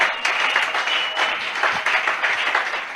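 Congregation at an evening prayer service clapping and cheering, a dense continuous wave of applause with raised voices, loud and close throughout.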